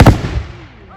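A single loud gunshot fired on command at a living history museum, a sharp close blast that decays quickly into a fading echo.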